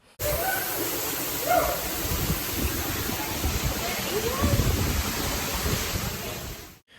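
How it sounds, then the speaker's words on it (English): A secret waterfall on the Juan de Fuca Trail on Vancouver Island, heard from nearby. It gives a steady, full rush of falling water that holds at an even level for several seconds and then cuts off abruptly. "they're now checking out the secret waterfall"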